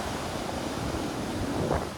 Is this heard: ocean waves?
yes